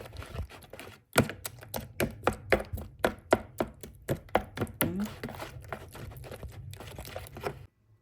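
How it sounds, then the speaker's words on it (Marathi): An egg is beaten into a banana batter for Goan filoz, giving a quick, steady run of about fifteen close, crisp tapping strokes against the bowl that stops abruptly, with no talking. "1 egg जो तांत हांवें एड केलां तें बी आतां बरें बीट करपाचें"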